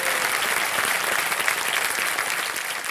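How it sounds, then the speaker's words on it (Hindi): Dense, sustained applause from a television quiz show studio audience welcoming a returning contestant, loud and even from start to finish with no voices over it. "तालियों के साथ इनका स्वागत"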